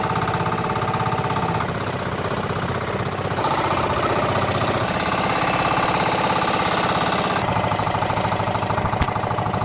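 Loud, rapid chugging of a small fishing boat's engine running continuously, its pitch shifting slightly as it revs, with no talking.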